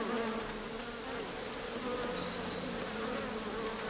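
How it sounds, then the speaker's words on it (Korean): A swarm of bees buzzes around a queen settled high on a tree branch near Soyang Lake, a dense continuous drone heard alone and at moderate distance. "드디어 벌들이 모습을 드러냈다."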